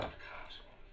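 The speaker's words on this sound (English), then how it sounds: "I'm going to cut a sliver off of that pineapple tomato" A knife slices a thin sliver off a pineapple tomato on a cutting surface, a single soft, brief cut heard close and quiet.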